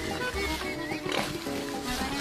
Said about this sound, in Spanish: Los cerdos son omnívoros y para un olfato sensible, el suelo forestal es un auténtico paraíso